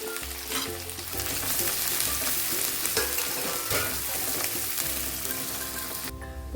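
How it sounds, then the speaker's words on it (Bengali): Onions frying in a pan until brown for a cauliflower roast, a steady loud sizzle with scattered crackles and pops over a dense hiss, dipping briefly near the end. "পেঁয়াজটাও আমি ব্রাউন করে ভেজে নেবো"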